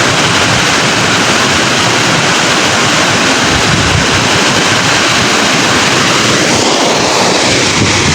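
Roaring waterfall near Pokhara, a loud, dense and continuous rush of falling water close by, with no voices over it.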